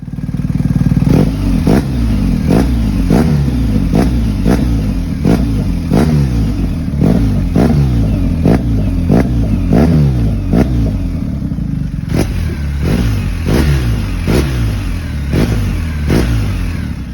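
A BMW R 1250 GS with an Akrapovič exhaust fitted with a single baffle revs loudly and close, its engine rising and falling in repeated throttle blips over a steady deep idle rumble.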